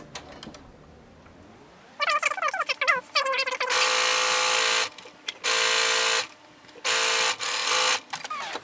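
A sewing machine stitches tucks in fabric: a short slow start, then several loud, steady bursts of rapid mechanical whirring separated by brief pauses.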